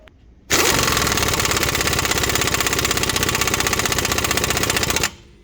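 An impact wrench driving a 32 mm socket onto the CV axle nut of a 2017 Chevrolet Malibu, one continuous loud rapid hammering burst of about four and a half seconds, starting and stopping sharply.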